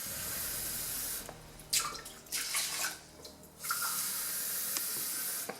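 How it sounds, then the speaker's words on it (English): Water running into a pot of rice for cooking, a steady pouring splash that comes in several short bursts with pauses between them, close and fairly quiet, with no talking. "Take 1 cup rice and add 2 cups water."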